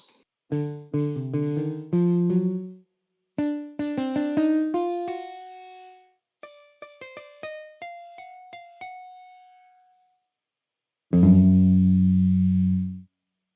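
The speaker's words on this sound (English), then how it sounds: "Perhaps more dubious is this Japanese violin-shaped guitar with a hollow body, unlike the Echo Bass." Japanese violin-shaped hollow-body electric guitar sampled, plucked in short rising note runs and chords with clean decays, ending in a loud sustained strummed chord, alone.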